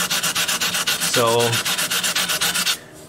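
Sandpaper rubs over the finish of a custom 12-string dreadnought guitar in fast, even, loud strokes close by, while someone briefly says a word partway through.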